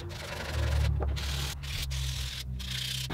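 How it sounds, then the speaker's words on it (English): A wooden candle holder is hand-sanded in steady back-and-forth strokes, a close, dry rubbing rasp repeated in short passes with brief pauses between them. "It's time for me to sand."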